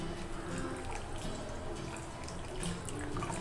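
Water pours in a steady, continuous stream into a mixing bowl of Bombay rava (upma semolina) while sponge dosa batter is being prepared in a home kitchen. The splashing runs unbroken and close, with no talking.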